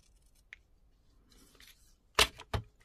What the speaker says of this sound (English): So I'll just use these wee scissors.